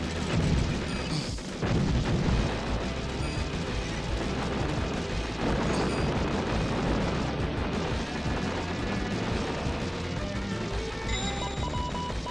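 Explosions in the arcade shoot-'em-up 1944: The Loop Master, a dense, continuous roar of blasts and booms layered with game effects throughout, with a heavier burst near the start.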